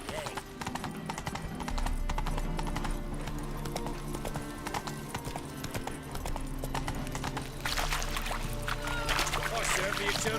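Roach, a horse in The Witcher 3, gallops with steady rhythmic clip-clop hoofbeats, close and prominent, with background game ambience and some talk over it.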